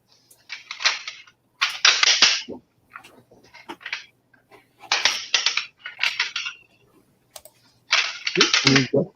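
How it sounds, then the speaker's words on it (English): Bursts of keyboard typing clack on and off in several loud clusters, separated by short quiet gaps, with no talking over them. "I can't hear you over Tom's clacking."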